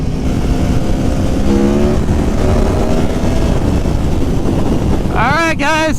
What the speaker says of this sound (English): The new bike. The Aprilia Tuono V4 1100 factory.